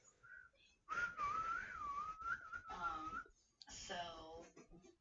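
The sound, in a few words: person whistling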